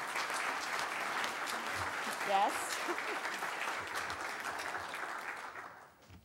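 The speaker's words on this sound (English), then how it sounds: "we can give you a quick round of applause" Church congregation applause welcoming first-time visitors at a live-streamed service, a moderate steady clapping from the room with a brief voice and a few whoops rising above it midway, fading out near the end.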